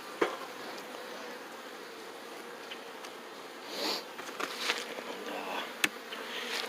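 A beekeeper's smoker puffs smoke into a busy hive: a few soft, breathy whooshes in the middle stretch over a constant low hum of buzzing bees, with a sharp click or knock near the end.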